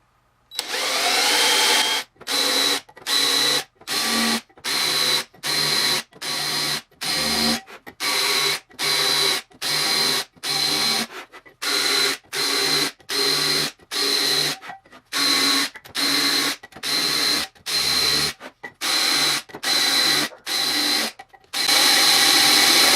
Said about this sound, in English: I'm just using a chamfering bit that I use for wood in my cordless drill